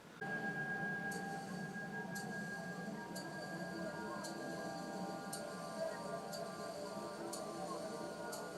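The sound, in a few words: watch ticking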